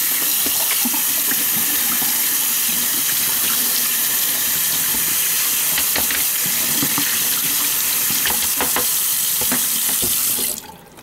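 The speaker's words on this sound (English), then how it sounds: "let's just give that a little rinse" A sink tap runs steadily as children's items are rinsed in a messy sink, a loud continuous rush of water with small clunks of things moved under the stream, stopping abruptly at the end.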